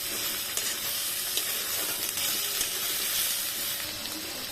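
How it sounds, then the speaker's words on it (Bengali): Shrimp fry with onions in a pan, a steady soft sizzle with occasional light stirring clicks, close and fairly quiet, no voices. "এখন চিংড়ি মাছগুলো আমি পেঁয়াজের সাথে দিয়ে দিব, যাতে পেঁয়াজের সাথে সাথে চিংড়ি মাছটা ভাজা হয়ে যায়"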